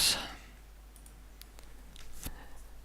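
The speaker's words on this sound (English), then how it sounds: "just clicking on the map will create the zone points for the zone plan" A computer mouse clicks on a map in a flight-sim mission editor while zone points are placed, a loud click at the start followed by a few faint, scattered clicks.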